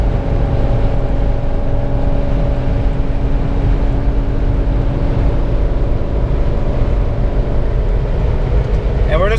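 LS-swapped Jeep Wrangler with an LT1 V8 pulling at quarter throttle while shifting up through the gears, a loud, steady engine drone with sustained tones across the whole stretch and mild rumble underneath.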